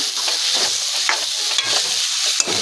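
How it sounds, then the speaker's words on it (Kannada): Cooked rice is stirred into a mango masala in a hot pan for mango chitranna, giving loud, close scraping strokes at an uneven rhythm over a constant oily sizzle. "ಈಗ ಅನ್ನ ಕಳಿಸ್ಕೊಳ್ಳೋಣ"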